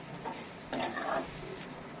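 A utensil scrapes and stirs through dry contents in a pan, two short bursts of scraping against a steady low hiss.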